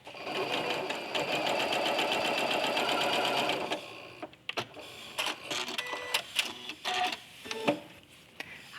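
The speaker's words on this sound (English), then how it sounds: "We're going to lay this down and sew it with 1/4 inch seam allowance." Sewing machine stitching a fussy-cut quilt binding with a quarter-inch seam, running steadily and loud for about four seconds, then giving way to scattered handling clicks and rustles.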